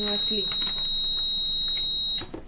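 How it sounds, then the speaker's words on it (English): A steady high-pitched electronic buzzer tone from a TENS unit sounds continuously, then cuts off near the end, with a voice talking underneath. "LCD will display adjust intensity level to 0 and buzzer will ring continuously"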